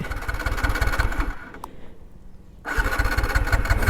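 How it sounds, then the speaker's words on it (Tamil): A TVS Apache RTR 180 motorcycle that keeps stalling: its engine chugs loudly and rhythmically, cuts out for about a second, then restarts and settles back into an even, close idle. "மறுபடியும் நம்ம ஸ்டார்ட் பண்ணி பார்ப்போம் ஸ்டார்ட் ஆகுதான்ட்டு"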